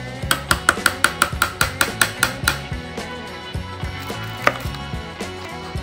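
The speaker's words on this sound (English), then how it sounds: "Chop bacon into bacon bits." A knife chops bacon into bits on a cutting board, a quick steady run of about a dozen close, crisp knocks, then slower scattered chops.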